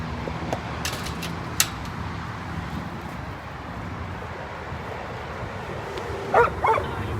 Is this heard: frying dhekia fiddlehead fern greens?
no